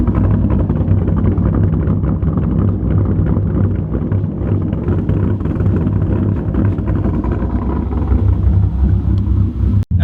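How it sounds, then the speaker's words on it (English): A rear-wheel-drive car on wide 305 rear tires spins its wheels in snow, the engine roaring loud and steady throughout with rushing tire noise, then cutting off abruptly at the end. "This is what happens when you try to get out in a rear-wheel drive cars with, I think, 305s in the rear."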